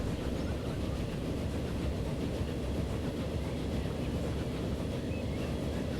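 Trains running in the railway simulation game Transport Fever, heard as a steady, loud, broadband rumble that holds unchanged throughout, with no talking.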